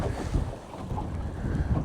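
Gusty 25 mph wind roars across a fishing boat out on the water, a constant rough buffeting rush with the low rumble of wind hitting the microphone and no voices.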